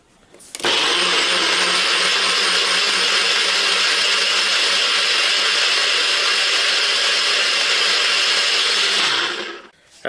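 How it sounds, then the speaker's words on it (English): Blender whirs steadily for about nine seconds, pureeing a pineapple, cayenne pepper and ginger decongestant drink, loud and close with a sharp start and stop. "So now I'm going to blend it now"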